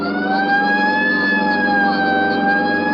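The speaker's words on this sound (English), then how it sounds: "Right, I'll hit the siren." Police car siren used as a sound effect in an old radio crime drama wails loud and close, a steady rising and falling electronic tone with a rumbling engine underneath and no talk.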